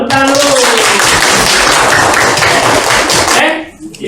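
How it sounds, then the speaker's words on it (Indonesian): A class of primary school students clapping hands together in a classroom, a loud burst of close, dense clapping that fills the room and then cuts off abruptly, followed by a few faint sounds. "Tepuk tangan dulu."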